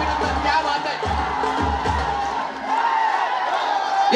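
Crowd cheering and shouting at an outdoor Dahi Handi festival in a village as a Govinda team forms its human pyramid, a dense, loud, continuous roar with whoops and rhythmic low thumps throughout.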